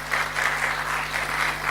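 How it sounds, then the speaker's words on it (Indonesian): A church congregation claps together in a steady, continuous round of applause, close and fairly loud, with a faint hum underneath. "Tepuk tangan buat Tuhan."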